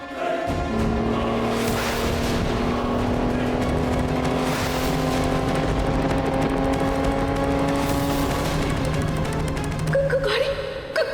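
A car drives along with a steady, loud engine drone and road noise throughout, as the driver tests the brakes on a car whose brakes are failing.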